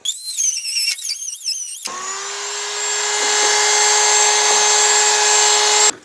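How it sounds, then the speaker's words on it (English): A power drill fitted with a rasp bit whines at a steady high pitch while cleaning out a metal flush door handle opening on a 1968-69 GTO, starting abruptly after some brief scraping and running continuously. "I just put my rasp bit in my drill, so I'm just going to get in here and clean that really well."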